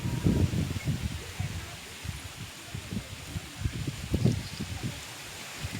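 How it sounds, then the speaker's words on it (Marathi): Strong gusty wind buffets the microphone in an open farm field, a steady low roar with rustling surges throughout, and voices can be heard faintly beneath it. "ते बघा किती वारं सुटलेलं आहे"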